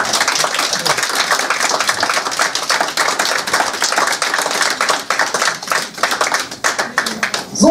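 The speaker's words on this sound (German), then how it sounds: "Einen Applaus, bitteschön." Wedding guests at a hotel reception applaud in dense, sustained clapping that carries on steadily and starts to thin toward the end.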